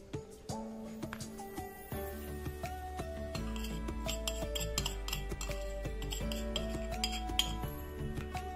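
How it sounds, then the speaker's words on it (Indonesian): A spoon clinks against a bowl while milk powder is stirred into kastengel cheese cookie dough, with small scattered taps sitting quietly beneath louder background music. "Jadi ini susu bubuknya kita masukin, terus kita aduk kembali"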